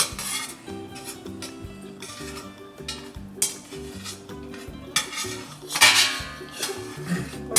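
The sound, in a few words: stirring garlic and onion in olive oil in a pan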